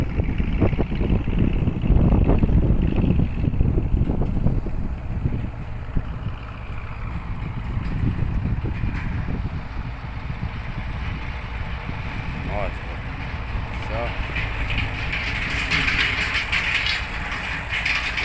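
A homemade Bizon tractor engine runs steadily as the machine rolls, a close, continuous mechanical chugging and rumble that lasts throughout, with a voice talking over it.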